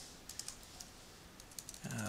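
Light clicks from typing on a computer keyboard come in two short, quiet bursts against faint room noise, and a voice starts speaking right at the end.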